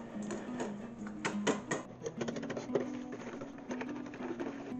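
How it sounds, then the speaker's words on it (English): A whisk beats eggs with brown sugar in a bowl, making quick, uneven rhythmic clicking and tapping against the sides. The sound is fairly close and moderately quiet, with no talking. "Now for the wet ingredients, I'm going to start with eggs, with brown sugar. I'm going to whisk that together."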